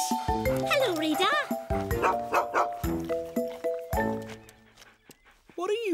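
A cartoon sniffer dog from Fireman Sam barks in a rapid run of short, bright yelps with playful jingling music.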